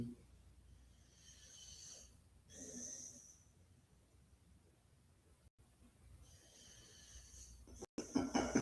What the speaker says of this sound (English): Yep, he's snoring.